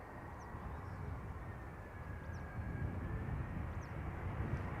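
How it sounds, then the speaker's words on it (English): An Air France Airbus A320 airliner arriving from Paris at Amsterdam Schiphol, a steady broadband jet roar at moderate distance that builds slightly toward the end, with a faint whining tone running through it. "Air France, flight 1640, arrival for Paris, A320."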